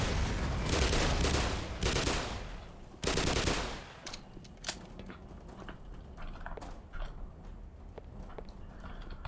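Machine gun in the video game Black Mesa rattling off loud, close automatic bursts for the first few seconds, then settling into sparse clicks and small impacts over a quieter background.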